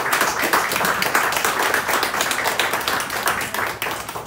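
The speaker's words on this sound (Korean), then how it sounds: "앞으로 행복하게 하나님의 은혜 가운데서 잘 사시라고 한번 박수로 한번 환영할까요?" Church congregation clapping during a Sunday morning service to welcome a newlywed couple, a close, dense burst of many hands applauding continuously.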